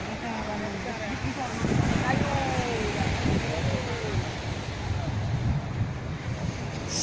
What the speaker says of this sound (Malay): Suasana laut Aceh.